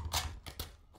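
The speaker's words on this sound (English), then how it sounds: "Switching mags." A weapon magazine is swapped during a reload in Call of Duty Modern Warfare II: three quick, close mechanical clacks in about a second, the first two heavier and the last a short click.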